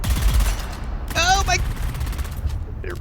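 Gunfire from the video game Dune: Awakening sounds in a short burst of rapid shots, close and punchy, followed by a brief whining tone and quieter game ambience.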